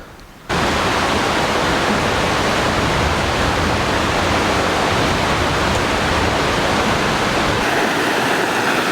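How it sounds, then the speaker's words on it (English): Tiny winter waterfalls in mossy woods pour with a loud, steady, broadband rush that kicks in abruptly and holds unchanged throughout. "In winter we just get all these tiny little waterfalls that come out of nowhere"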